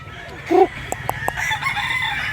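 Chickens cluck and a rooster crows briefly, with a few sharp calls and a low hum of farmyard noise behind, in Mantalungon, Cebu.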